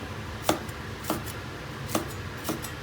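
A knife chops onion on a cutting board in a home kitchen, giving four sharp, separate chops spaced about half a second apart over a low background hum.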